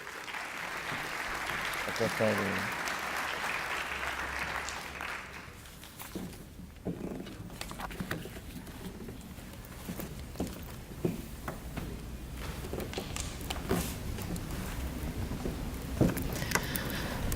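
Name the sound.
applause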